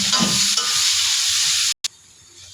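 Chopped onion frying in mustard oil gives a loud, dense sizzle with a stir early on, then cuts out briefly and drops to a quieter, steady hiss.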